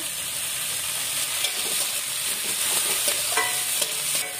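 Ingredients sizzling in hot oil with turmeric for a leftover rice recipe, a steady close frying hiss with occasional faint stirring scrapes and taps.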